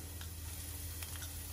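Garlic and dried sweet and salty radish fry in oil in a pan over medium heat, a faint steady sizzle with a few soft ticks and pops and no talk over it.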